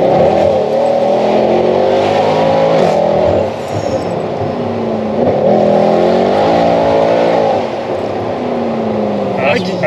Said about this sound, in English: Gearbox slip a little, and when it does that, it sounds evil because it's like not going anywhere.